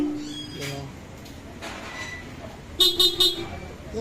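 A Bosch Europa car horn gives three quick, loud, bright blasts in a row, preceded by fainter tones and background murmur.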